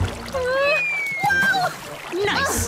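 Water splashing in Minecraft as blocky dog characters jump into water, brief splashes under excited child-like voices talking throughout.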